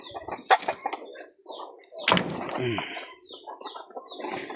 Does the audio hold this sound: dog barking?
no